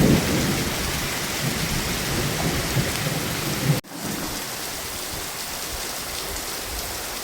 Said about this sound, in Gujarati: અત્યારમાં 6 વાગ્યામાં વરસાદ શરૂ થઈ ગયો જોરદાર.